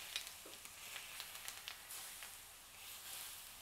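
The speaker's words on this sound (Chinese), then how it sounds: "我们现在把油倒到刚刚那个蒜和辣椒的盘子里" Hot oil poured over garlic and chili in a dish, a faint soft sizzle with small crackles and pops, quiet and close, no talk.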